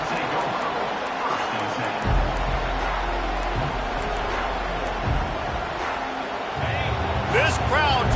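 A football stadium crowd at a Miami versus Florida State game roars steadily as a loud, dense wash, with surges and thumps, while a commentator talks over it.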